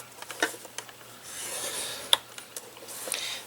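Cardstock being scored with a tool, soft scraping rubs and light scratchy strokes with a few small taps, close and quiet.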